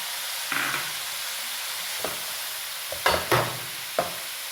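Green onions stir-frying for egg fried rice give a constant hissing sizzle, broken by a handful of spatula scrapes and tosses, close and fairly loud.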